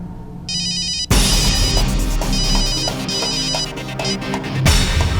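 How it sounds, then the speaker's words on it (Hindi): A phone ringtone warbles in repeated electronic bursts over a busy, noisy background with dramatic music, fairly loud and close. "लव भैया को लगाती हूँ।"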